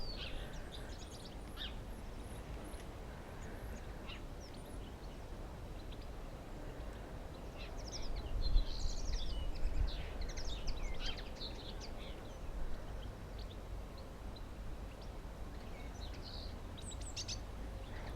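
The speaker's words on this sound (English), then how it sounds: "just hear the chattering of the birds in the trees" Birds chirp and twitter in the distance, scattered calls overlapping outdoors, with a soft breezy background rumble and no talking.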